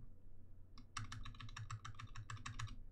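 Mechanical keyboard keys typed in a quick burst of close, sharp clicks and clacks, with scratchy, rattly stabilizers, alone in a quiet room.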